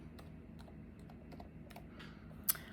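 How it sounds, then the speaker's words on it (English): Soft, quick keystrokes patter on a computer keyboard in a quiet room, an irregular run of light clicks ending in one sharper tap. "So I'm typing in who I am"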